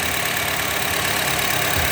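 A Honda HR-V 1.5 E with a CVT idles: a steady, smooth hum with a faint low pulse, close up and even throughout, with no voices.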